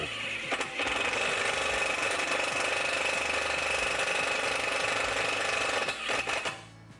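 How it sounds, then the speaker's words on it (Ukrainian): A Procraft Industrial cordless impact driver drills a hole with a loud, steady mechanical whir for about six seconds, then spins down as the bit breaks through and the revs fall. "Ми швидко просвердлюємо отвір, а після того, як ми його просвердлили, оберти падають."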